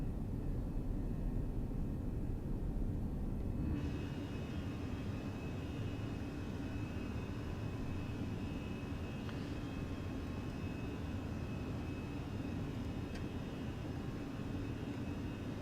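Engines of a Fenix A320 airliner in Microsoft Flight Simulator roar at climb thrust, a steady, broad, dense drone with a thin whine that lasts throughout.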